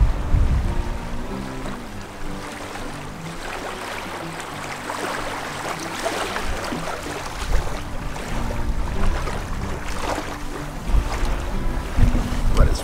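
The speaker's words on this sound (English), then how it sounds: "It's a bit windy." Wind gusts buffet the microphone outdoors beside the water on a warm day near a VW California camper, a rough continuous rumble with swelling surges and water and boat-like background noise.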